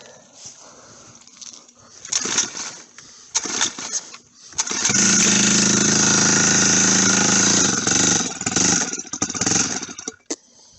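A turbocharged motorcycle engine runs with the choke on in cold weather. Sputtering, uneven bursts come first, then it settles into a loud, sustained roar that holds for several seconds before dropping away.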